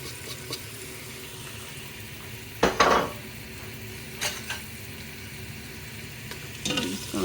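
Garlic frying in a pan for shrimp chilli, a faint steady sizzle broken by a few short scraping stirs and utensil clinks against the pan.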